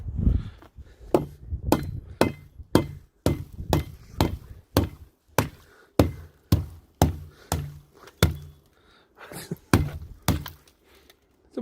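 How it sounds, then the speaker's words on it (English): Steady, heavy blows from a mash hammer on metal, around two per second and up close, each a sharp clanging strike with brief pauses between some runs. "It's a mash hammer."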